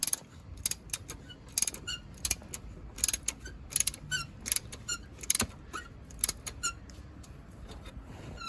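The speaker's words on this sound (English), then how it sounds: "Tension the belt by turning the tensioner adjustment knob clockwise." A belt tensioner adjustment knob on a Mercedes 190E 2.0 W201 with the M102 engine is turned clockwise, giving a series of sharp metallic clicks and ratchet-like ticks, close and fairly quiet, in an irregular rhythm.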